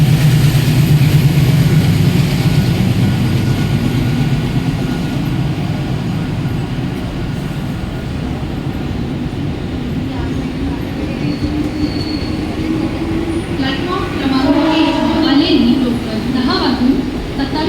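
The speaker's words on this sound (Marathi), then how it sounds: "प्लॅटफॉर्म क्रमांक 4 पर आई हुई लोकल 10:29 की मुंबई छत्रपति शिवाजी महाराज टर्मिनस जाने वाली तेज लोकल है।" A Mumbai suburban local train rumbles in and slows alongside platform 4, wheels squealing, while a public-address voice announces a fast local to Chhatrapati Shivaji Maharaj Terminus over the station noise.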